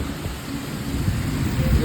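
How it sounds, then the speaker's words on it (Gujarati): Heavy monsoon rain falls at Pavagadh, the Mahakali temple hill in Gujarat, as a steady hiss with a low rumbling undertone that slowly grows louder. "પાવાગઢમાં વરસાદ ખૂબ છે"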